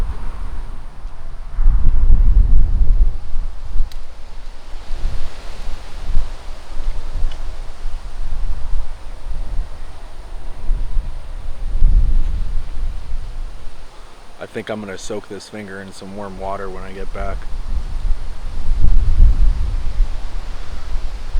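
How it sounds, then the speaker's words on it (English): Strong outdoor wind buffets a microphone in heavy low rumbling gusts throughout, while someone talks over it and a brief whistling tone rises midway. "I'd feel so much more relaxed if it wasn't so dang windy and I knew that this microphone could handle it"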